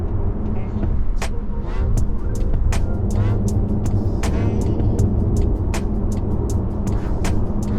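Interior road noise from an Audi Q5 Sportback SUV cruising at highway speed, a loud, steady low rumble of engine and tyres with frequent sharp ticks and clicks over the top.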